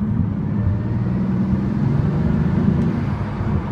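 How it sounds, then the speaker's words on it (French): A Bugatti Veyron's turbocharged engine rolls at low speed, under 80 km/h, giving a steady, continuous low rumble and whoosh from inside the car, with no talking. "les turbos, écoute bien"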